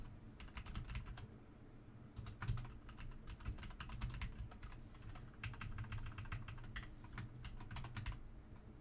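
Typing on a computer keyboard while coding, with quiet, close, rapid key clicks in bursts separated by short pauses over a low background hum.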